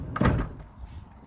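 A campervan's automatic step slides out as the door opens, a single close mechanical thud and rumble that fades into a soft whir.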